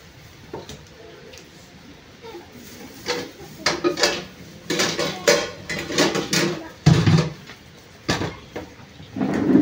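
A large pressure cooker and pots are handled in a kitchen, giving irregular knocks, clanks and scrapes of metal at close range, some louder thuds among quieter shuffling.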